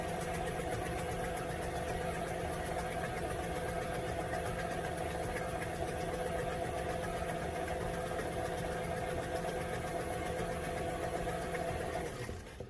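An electric mixer runs steadily for several seconds, blending wet and dry rum cake ingredients into a batter. The motor hum is continuous and close, then cuts off at the end, with no talking.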